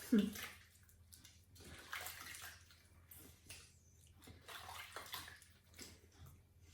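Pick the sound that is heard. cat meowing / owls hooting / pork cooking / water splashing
water splashing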